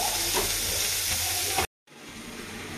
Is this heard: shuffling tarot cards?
no